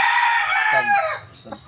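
A young rooster, a stag, gives one loud, close crow that holds steady and then trails off, with a short bird call and faint background noise after it.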